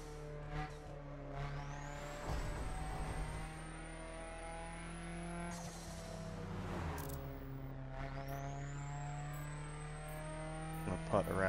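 A fully upgraded car in the racing video game The Crew drives hard, its engine note climbing through gear shifts and revs while someone talks over it.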